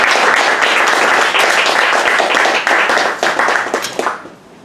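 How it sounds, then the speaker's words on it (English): Audience applause at a writers' reading showcase, a dense, steady wash of many hands clapping that holds loud for about four seconds, then quickly thins and fades out. "Round of applause,"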